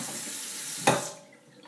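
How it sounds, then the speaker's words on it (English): Tap water runs steadily into a container to rinse out splattered turmeric, ginger and lime fibre, with a brief splash near the end before the flow fades. "Rinse this out because it's got quite a bit of fiber splattered up in it."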